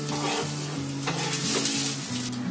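Masala paste for a village-style chicken curry fries in a pan, a steady close hiss of sizzling with a spoon stirring and occasional scrapes against the pot, a low electrical hum beneath, no voices.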